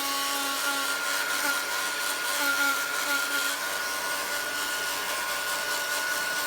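A hair dryer blows steadily to dry a glued paper tag made from packaging, a continuous close whir with a constant high whine and no talk over it.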